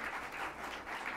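Audience clapping at a school Commonwealth Day celebration after student presentations of culture, drama and spoken word, a steady, dense round of applause sustained throughout.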